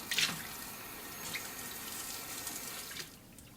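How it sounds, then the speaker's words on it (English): Water runs steadily from a kitchen tap as a pan is rinsed out after straining basmati rice, a continuous close splashing hiss that fades out near the end. "So you're going to want to wash your pan out really quick."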